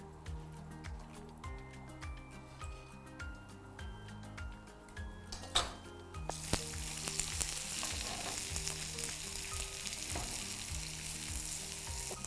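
Garlic dropped into hot oil in a pan, with quiet music at first, then a loud, dense crackling sizzle that bursts in halfway through and holds steady under the music.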